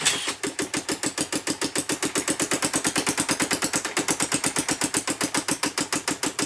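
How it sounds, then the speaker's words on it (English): A metal 3D printed gas engine runs with a rapid, even train of sharp mechanical firing pulses, loud and close, holding a steady rhythm with no talking. "I noticed the engine runs for much longer, but it still slowly stalls out."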